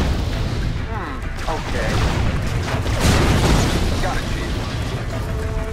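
Laser cannon blasts and explosions from the Mental Omega strategy game rumble steadily throughout, with a bright surge midway, mixed under continuous game speech and voice lines.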